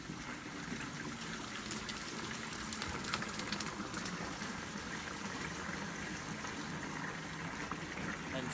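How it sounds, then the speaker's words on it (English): Water falls steadily from a metal gutter into a pig's water trough inside a pen, a continuous splashing gush that runs unbroken throughout at moderate, close range. "Let the water drop right down into his water trough."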